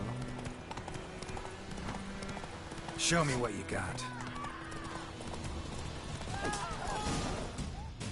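Horse hooves clip-clop in a rapid galloping rhythm in a video game, joined by a brief whinny, with someone talking over the hoofbeats.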